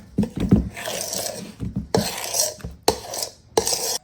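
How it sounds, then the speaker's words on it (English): A utensil scrapes around the sides of a mixing bowl of sugar cookie dough in a series of short, close, rasping strokes separated by brief pauses. "And then I just scrape my sides before we move on to the next step."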